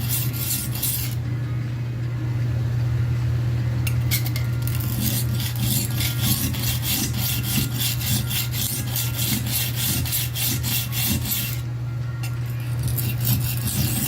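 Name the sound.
knife being sharpened on a two-sided carborundum stone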